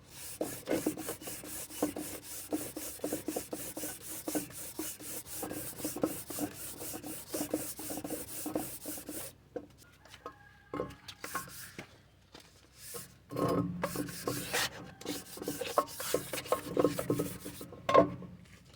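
Close, rapid back-and-forth rubbing of a rough pad cleaning the metal surface of a Nissan Pathfinder 3.5L engine, rhythmic scratchy strokes that pause, then resume more irregularly.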